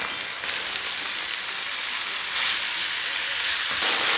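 Chopped potatoes and onion frying in a pan, a steady, even sizzle and crackle that holds at a constant level throughout.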